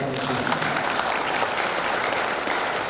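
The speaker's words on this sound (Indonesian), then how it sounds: "Ya, tepuk tangan kok." An audience at a year-end reflection gathering breaks into dense, continuous clapping that fills the space evenly from start to finish, with a voice faintly audible underneath.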